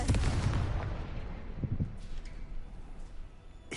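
A Confringo blasting curse goes off in Hogwarts Legacy as a loud, deep explosion at the start, followed by rumbling debris that fades over several seconds, with a few faint thuds afterward.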